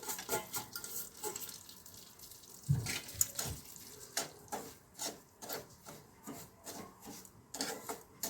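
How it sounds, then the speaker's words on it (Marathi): Semolina is roasted in melted ghee in a pan, with a spoon scraping and stirring in a steady, uneven rhythm of soft rasping strokes, close up and fairly quiet. "आता आपण ह्या तुपामध्ये हा जो रवा घेतलेला होता तो व्यवस्थित भाजायचा आहे ब्राऊन कलरवरती"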